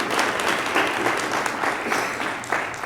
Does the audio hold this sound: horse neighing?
no